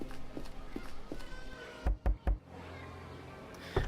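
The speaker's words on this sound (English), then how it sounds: "I'm knocking" Three firm knocks on a door in a video game, loud and evenly spaced, followed by a pause and another single thud, over soft game background sound.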